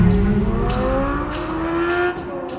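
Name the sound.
Chevrolet 2023 C8 Corvette Z06 engine revving while driving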